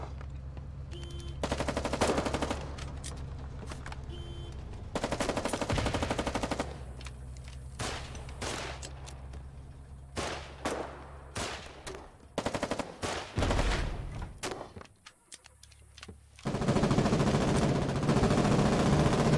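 Rapid bursts of automatic gunfire and single shots in the war game Foxhole, loud and close, coming in irregular volleys separated by brief lulls, with sustained firing near the start and again at the end.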